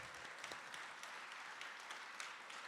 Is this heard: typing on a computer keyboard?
no